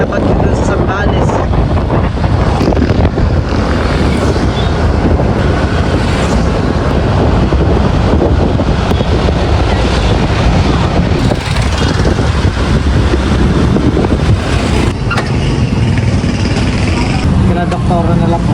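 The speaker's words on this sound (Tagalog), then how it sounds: "ngayon po ay mahangin dito" Strong wind blowing outdoors in the Philippines ahead of an approaching storm, a loud continuous roar with heavy microphone buffeting throughout, while people talk underneath it.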